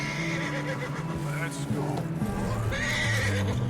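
An agitated horse in the video game Red Dead Redemption 2 gives a loud, close whinny and snorts while hooves clop on the ground, with a voice speaking over it.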